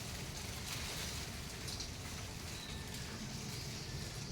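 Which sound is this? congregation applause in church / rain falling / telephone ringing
rain falling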